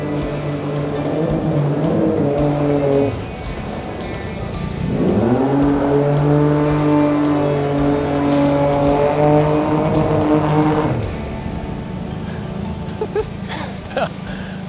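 A jet boat's loud engine roars past on the Green River, its pitch rising and falling with a Doppler sweep as it approaches and speeds away, then fades to a quieter hum.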